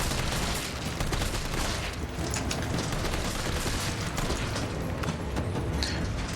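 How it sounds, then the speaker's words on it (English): A grenade blast and rattling combat noise fill a Resident Evil 3 Remake fight against hunters after a power outage, a dense, continuous barrage of loud bursts and mechanical clatter with no pauses. "but we just throw a grenade and kill them"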